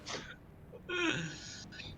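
A person sneezes near the mic with a sharp breathy burst, followed by a short strained vocal release and a faint trailing gasp, all within about two seconds.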